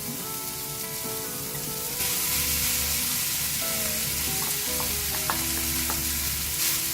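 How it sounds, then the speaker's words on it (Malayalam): Crumbled paneer and masala stirred and fried together in a pan for paneer bhurji make a loud, steady sizzle with intermittent spatula scrapes and taps, alone without voices. "ഈ പനീറും മസാലയും കൂടെ നന്നായി മിക്സ് ആവണ വരെ ഒന്ന് ഇളക്കി കൊടുക്കണം"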